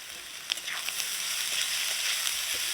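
Chopped onion with black cumin, bitter gourd and potato fry in a pan with a constant close sizzle, broken by a few light clicks of stirring.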